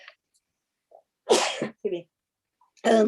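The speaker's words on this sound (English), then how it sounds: "And I'm about to sneeze." A person sneezes during a remote panel meeting, a sharp explosive burst, then a second shorter sneeze about a second and a half later, with faint breathy sounds between them.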